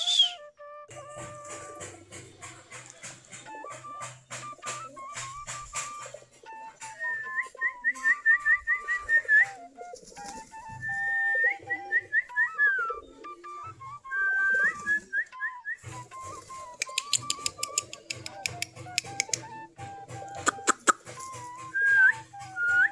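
Giribaz pigeons cooing and scuffling as they fight after bathing in water, with soft repeated coos and sharp whistling calls over flapping and pecking sounds, close by with no talk.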